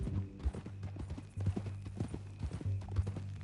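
Horse hooves clip-clop in Red Dead Redemption II, an irregular run of close, fairly quiet hoofbeats from a walking horse, with no talk over them.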